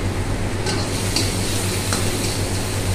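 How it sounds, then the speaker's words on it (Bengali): Garlic fries lightly in oil with a dense, continuous sizzle and soft stirring scrapes, a low steady hum underneath and no voices. "রসুনটা হালকা ফ্রাই করা হচ্ছে"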